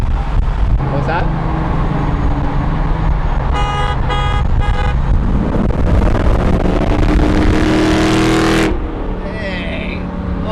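A car horn toots in short repeated bursts amid loud traffic and a revving Mopar engine, close and prominent, with people talking and exclaiming around it.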